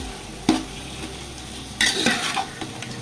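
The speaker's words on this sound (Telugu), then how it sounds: "సరిపడా అల్లం వెల్లుల్లి పేస్ట్ మేము ఒక టూ త్రీ స్పూన్స్ వేస్తున్నాం టూ కానీ టూ అండ్ హాఫ్ కానీ సరిపోతాయండి బాగా మొత్తం ముక్కలు అన్నిటికీ పట్టేటట్టు బాగా కలుపుకోండి" Mutton pieces being stirred together with ginger garlic paste in a pot, two sharp scraping clatters of a spoon against the vessel over a low sizzle, no voices.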